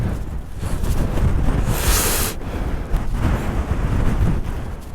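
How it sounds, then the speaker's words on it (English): Strong wind buffets the microphone on exposed Northumberland crags, a loud, continuous roar with gusting surges and a brief hissing blast in the middle, and no voices. "It's just too windy."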